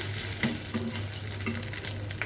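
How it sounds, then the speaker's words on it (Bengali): Jackfruit seed kebabs hiss and crackle in hot oil in a pan, with a few light stirring scrapes; a short, close, steady sizzle with no voices. "এভাবে করেই ভেজে নিব সবগুলো"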